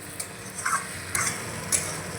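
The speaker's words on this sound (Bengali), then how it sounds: "তো আবারও আমি ভালো করে মিশিয়ে নেব" Boiled potato and spice mix, with amchur powder, being stirred in a pan, giving a soft low sizzle broken by three brief scraping clinks of the spoon, quiet and close.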